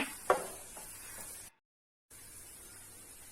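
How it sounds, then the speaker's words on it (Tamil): Gram flour sponge cake batter being stirred in a pan, giving a soft scraping and faint sizzle with one sharper knock early on, then a brief pause before the quiet stirring resumes. "நல்லா கிண்டி விட்டுக்கிட்டே இருக்கணும்"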